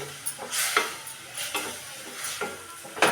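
Okra frying in a pan with masala and a splash of lentil water for bendekai sambar, a steady hiss and sizzle broken by repeated stirring scrapes at a close, moderate level.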